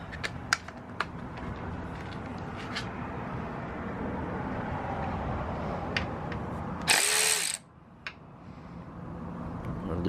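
A power tool whirs steadily nearby while loosening the front fork pinch bolts on an Alta Redshift SM electric motorcycle, with scattered metallic ticks, then a brief, loud high-pitched burst near the end before the tool quiets.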